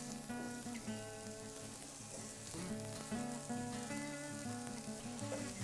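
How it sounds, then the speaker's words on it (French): Onions browning in olive oil in a pan, a continuous close sizzle and crackle beneath a steady layer of background music. "Alors d'abord, on va aller faire roussir les oignons"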